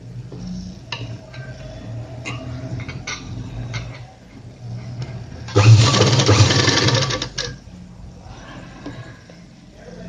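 A sewing machine stitches a seam along a folded fabric edge in one loud, steady whirring run lasting a couple of seconds, with quieter handling noises and light ticking before and after.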